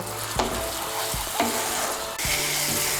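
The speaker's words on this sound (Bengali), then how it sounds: "দিয়ে এখন মশলাটাকে আমি ভালো করে কষিয়ে নেব" Spice masala fries in oil in a pan for a potato and green pea dum, a steady sizzle broken by a few scraping stirs, close and alone with no voices.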